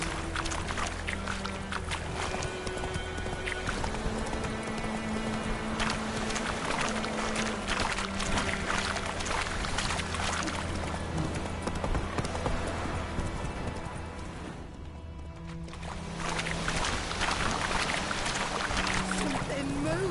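A horse's hooves clop steadily in The Witcher 3, a rhythmic trotting beat running under game music and ambient sound, with a short dip in the middle before the hoofbeats resume.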